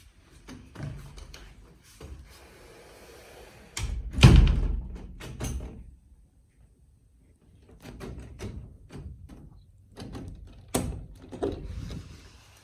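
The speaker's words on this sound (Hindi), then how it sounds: "ये डोर लॉक एक बार अंदर से बंद होने के बाद या तो अपनी चाबी से खुल सकता था या जैसे अभी अंदर से खोला गया है" A door lock is worked from the inside with a series of metallic clicks and taps, then a heavier thud near the middle, followed by more scattered clicks and knocks at close range.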